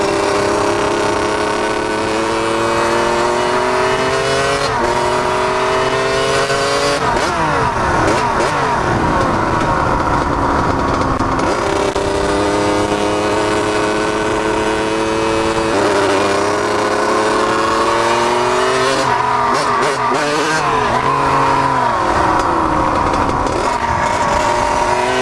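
A car engine running rough while being driven drones loudly and close, its pitch rising and falling with repeated revving and easing off the gas, with no speech over it.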